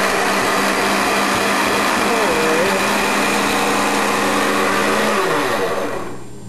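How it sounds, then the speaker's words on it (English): Blender whirring loudly at high speed with soapy water inside during a self-cleaning cycle, a steady dense motor whine that winds down near the end, with no talk. "This is the cleaning process of the blender, the little soap."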